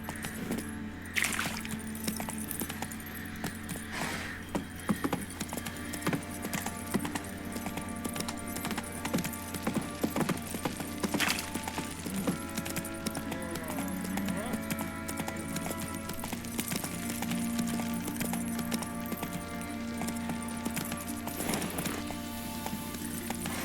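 Horse hooves clip-clop steadily in the video game The Witcher 3 as the horse moves along, a continuous rhythmic trot with jingling tack, faint in level and under occasional talk.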